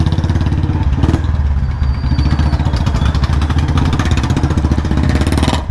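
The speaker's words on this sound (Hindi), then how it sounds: "ये शॉर्ट बोतल की आवाज़ देख लो" A Royal Enfield Bullet 350 Standard with a short bottle exhaust thumps loudly and close at idle. Its steady, rapid beat runs throughout, with a sharper knock near the start and no talking over it.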